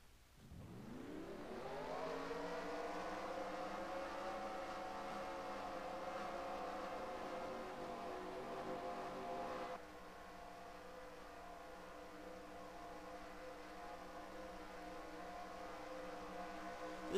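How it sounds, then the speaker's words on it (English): Stock-car engines from a racing video game's Sunoco Cup Series short-track race rise together at the start. They settle into a steady, droning roar of revving cars, heard faintly throughout with no speech. "Drivers, start your engines!"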